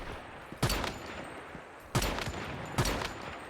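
Jaws pistol shots in Once Human, three sharp single cracks spaced unevenly over a few seconds, each with a short decaying tail over low game ambience.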